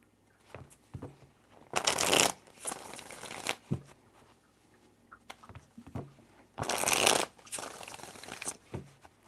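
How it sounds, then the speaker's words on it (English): Tarot cards being shuffled by hand, heard as two bursts of crisp riffling and flapping separated by softer handling noises, close by and with no talking. "3 shuffles."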